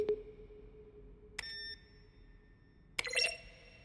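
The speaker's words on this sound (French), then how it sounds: "Une sélection des sons entendus dans le jeu à chaque utilisation d'un bouton. L'action est un mélange de frappe au clavier de tonalité de synthétiseur." Button press sounds from the video game The Stanley Parable, a mix of keyboard tapping and synthesizer tones: three separate electronic beeps and chimes, each short and sustained, on a quiet background.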